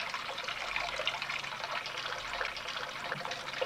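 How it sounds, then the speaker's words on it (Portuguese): Water runs steadily from a tap, a soft continuous hiss and trickle at low volume with no pauses. "A água saindo de uma torneira é um grande privilégio."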